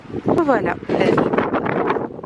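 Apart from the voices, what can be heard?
strong wind in the Pyrenees mountains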